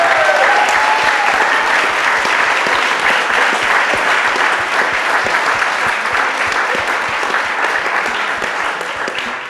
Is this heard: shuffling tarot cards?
no